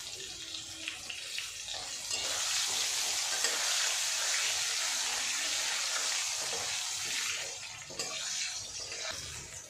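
Potato pieces fry in oil with salt and turmeric for a rohu fish curry, a faint, even hiss and crackle that swells and holds steady, with no one talking.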